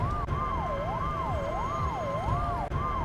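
An ambulance siren from the video game Find Me wails in a smooth rising and falling sweep, repeating several cycles loudly and continuously over a low rumbling background.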